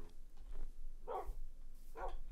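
Two short barks from a dog in a Minecraft village, spaced about a second apart, fairly faint over a low background hum.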